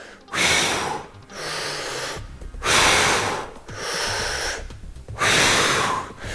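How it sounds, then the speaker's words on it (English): Heavy, forceful exhalations during bicep curls, three long loud breathy bursts separated by short quieter gaps, close to the listener with no talking. "When my muscles contract, that's when I breathe out."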